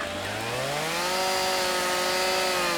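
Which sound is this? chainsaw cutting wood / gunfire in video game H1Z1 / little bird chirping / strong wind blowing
chainsaw cutting wood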